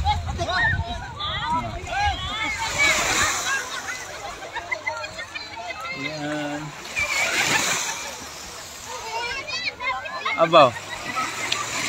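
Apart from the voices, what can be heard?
strong sea waves splashing at a beach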